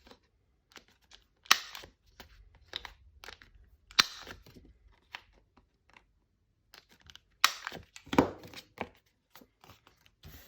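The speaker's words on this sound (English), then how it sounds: "I'm going to round these corners now because that glue is a little bit drier" Sharp clicks of a corner rounder punch cutting the corners of a paper card for a journaling tag, a scattered series of separate crisp snaps and small handling knocks, close up with quiet gaps between them.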